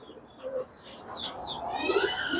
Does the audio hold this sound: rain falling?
no